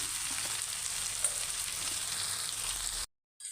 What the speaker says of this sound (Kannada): ಪುದೀನ ಕೊತ್ತಂಬರಿ ಎರಡು ಬೇಕಿರುತ್ತೆ ಬಿರಿಯಾನಿಗೆ ಹಾಕೊಂಡು ಸ್ವಲ್ಪ ಫ್ರೈ ಮಾಡ್ಕೊಳ್ಬೇಕು